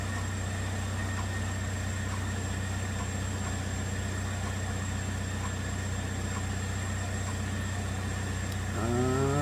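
A 2009 Chevrolet Malibu Hybrid idles with its transmission stuck in limp mode, giving a steady, even low hum with a constant tone for about nine seconds. The sound shifts and swells slightly at the very end.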